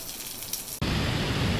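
Water suddenly pours down in a cave as a natural shower, a dense, loud, continuous rushing splash that cuts in abruptly after a quieter moment.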